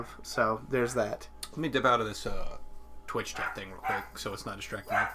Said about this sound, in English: There's a dog barking. There is a dog barking.